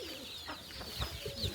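Young chicks let loose on a farm chirp and cluck softly, a few fowl calls and coos rising briefly over faint background noise.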